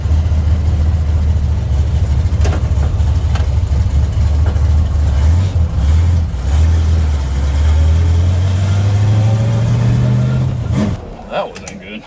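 A homemade drivable Death Star vehicle drives past with a steady mid-pitched engine drone whose pitch climbs gradually as it speeds up, then fades away near the end.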